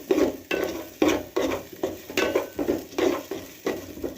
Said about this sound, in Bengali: দাও একসাথে ভালো করে ভেজে নেব